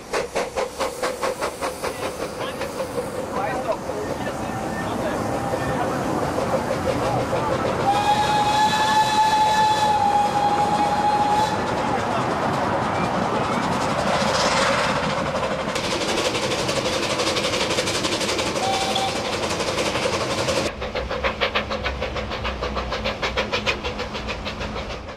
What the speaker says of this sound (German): Jetzt dampft und schnauft sie wieder. Baden-Württembergs liebste Kleinbahn im Höhepark Killisberg zu Stuttgart.